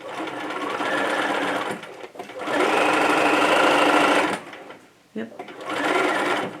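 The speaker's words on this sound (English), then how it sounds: "And I'm going to lock those stitches." A domestic sewing machine stitches a fabric seam and locks the stitches in three steady, close whirring runs separated by brief pauses. A voice speaks briefly over it.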